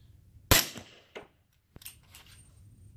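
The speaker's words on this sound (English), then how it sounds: "I'm just gonna shoot into the sand so you can hear how quiet it is" A suppressed Q Honey Badger rifle fires into sand: one sharp, fairly quiet report, then a couple of smaller clanks and a second muted shot, each short with brief gaps between.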